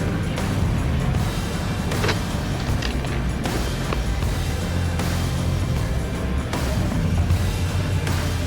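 Jeep engine pulling uphill through snow in second gear on a trail to a summit campsite, a steady loud broadband rumble with wind buffeting throughout, no voices.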